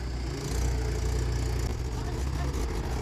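Two tractors strain together to drag a heavy trolley sunk deep in sticky clay mud, a steady loud diesel engine drone holding throughout with faint background noise.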